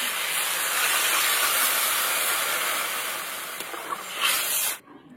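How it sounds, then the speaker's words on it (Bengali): Water hits a pan of fried potato and eggplant being cooked for a Bhola fish curry, and a loud, steady hiss of steam rises close by before cutting off abruptly near the end. "এবার জল দিয়ে দেবো।"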